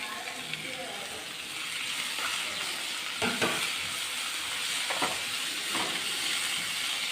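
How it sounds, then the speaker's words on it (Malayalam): Onion and tomato sauté in a pan with a continuous soft sizzle and occasional scraping stirs, heard at low volume with no voices. "ഇനി ഇതെല്ലാം കൂടെ നന്നായിട്ടൊന്ന് വഴുതാം"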